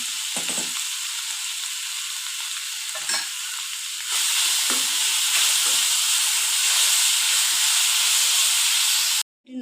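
Ground ridge gourd thecha frying in oil gives a loud, steady hissing sizzle that swells after a few seconds, with occasional stirring knocks and a sudden cutoff near the end.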